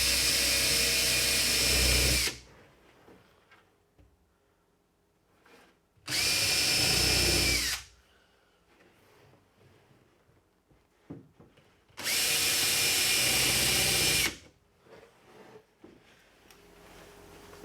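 A power drill drives temporary number 8 construction-grade exterior screws into wood in three loud, close bursts of about two seconds each, separated by quieter pauses with faint handling clatter.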